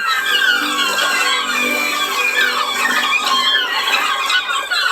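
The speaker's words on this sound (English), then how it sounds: "The payoff for the screaming gulls waiting in the sky outside the boathouse is a feast of scraps they obviously know is coming." Gulls screaming overhead outside a fishing boathouse on the North Shore of Lake Superior, a dense, continuous chorus of shrill cries loud and steady throughout.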